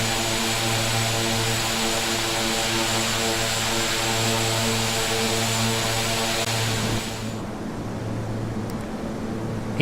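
A steady, loud propeller aircraft engine drone in Microsoft Flight Simulator X as the plane climbs out of Glasgow after takeoff. The tone is continuous, and its upper hiss drops away sharply near the end.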